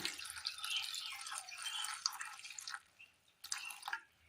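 Water is poured into a pan of chopped raw plantain, beans, carrot and onion, a steady close splashing that breaks off briefly and then resumes, with no voices.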